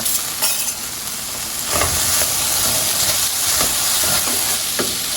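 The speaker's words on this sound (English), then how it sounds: "while the potatoes are cooking away" Potatoes seasoned with salt and garlic powder sizzle steadily in a hot skillet, a loud continuous frying hiss with occasional stirring scrapes and no talking.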